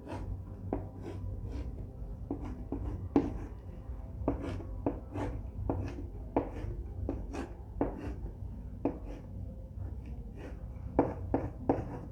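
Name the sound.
teacher writing a question on the board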